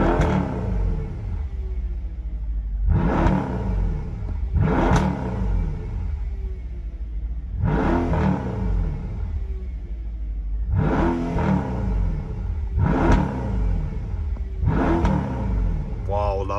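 Brabus S63 AMG Cabriolet V8 revving in sport mode, repeated loud throttle blips that swell and fall away roughly every couple of seconds over a deep rumbling idle.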